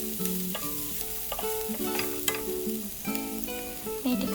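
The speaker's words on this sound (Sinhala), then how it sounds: "ලොකු ලුණු සහ රතු ලුණු ඒ දෙකම එකතු කරනවා" Chopped onions and shallots frying in a pan, an even close sizzle with a spatula stirring and scraping through it in irregular strokes and a few light clinks.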